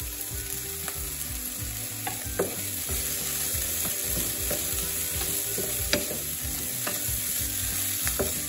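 Peas sizzling in a thin film of olive oil in a pan, a steady dense crackle with small pops scattered throughout, close and continuous with no voices.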